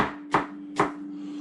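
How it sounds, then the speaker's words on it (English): A knife chops apples on a board for apple crumble, two quick, sharp cuts landing close and distinct over a steady low hum. "So we're just chopping these up very, very fast and loosely."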